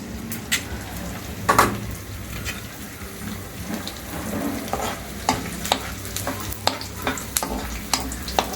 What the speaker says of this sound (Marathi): आता मी हा जो डिंक आहे तो फुलवायचा आहे मला